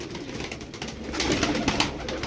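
Tumbler pigeons close by give soft, low calls amid a busy rustling background.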